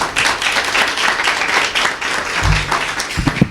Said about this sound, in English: Please receive him with a warm round of applause.